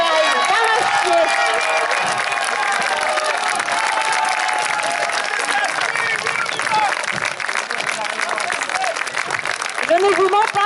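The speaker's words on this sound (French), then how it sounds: "j'aimerais qu'on applaudisse notre costumière, Josette, qui travaille d'arrache-pied." Dense crowd applause and cheering at a grand parade of costumed troupes and extras, a steady loud wash of clapping and shouts that carries on throughout.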